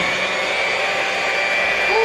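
An electric hand mixer whirs steadily and loudly, beating pudding mix into a banana cream for a banana pudding pound cake, a continuous close motor drone with no pauses.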